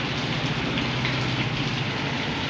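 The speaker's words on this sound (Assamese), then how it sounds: "ইমান ডাঙৰকৈ বৰষুণ দিলে, বহুত ডাঙৰকৈ দিছিলে" Heavy rain pours steadily outside a roadside tea hotel in Borhat, a dense, continuous hiss of drops close by that fills the whole stretch without a break and with no voices over it.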